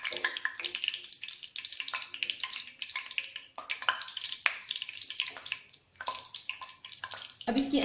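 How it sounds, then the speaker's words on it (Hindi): Whole spices sizzle and crackle in hot oil in a pan while spinach rice is being cooked, a steady close frying hiss with small pops and stirring scrapes throughout. "इन्हें थोड़ी देर के लिए फ्राई करना है ताकि इनका फ्लेवर निकल आए।"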